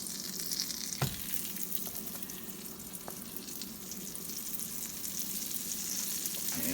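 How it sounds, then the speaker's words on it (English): Black bean and lentil burger patties sizzle softly in a hot pan, a steady quiet hiss with a sharp clack early on and a few faint clicks, no voices. "Now our pan is nice and hot. And we're going to start putting the burgers in."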